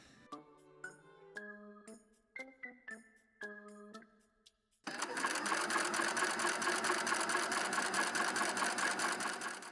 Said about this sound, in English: I did top stitch the entire 7 panels along the top edge.